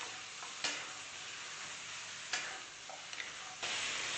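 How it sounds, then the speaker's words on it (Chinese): Chicken pieces sear in a dry hot wok with no oil or water, a soft steady sizzle broken by a few light scraping clicks. "锅内不用放油和水，关锅烧热，倒入鸡块煎制"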